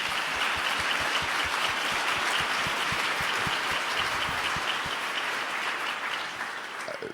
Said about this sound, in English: And you can clap on that